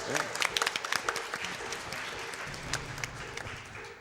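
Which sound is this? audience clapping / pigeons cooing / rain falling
audience clapping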